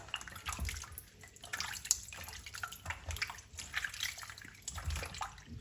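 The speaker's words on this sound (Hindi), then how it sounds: "इनको 2-3 पानी से वॉश कर लेंगे।" Five large red tomatoes being rinsed in water, with splashing, dripping and sloshing in irregular bursts close by, a moderately quiet kitchen washing sound with no talk over it.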